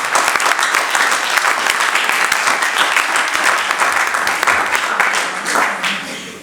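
A church congregation breaks into sustained, dense applause, many hands clapping together at full strength for several seconds before tapering slightly at the end.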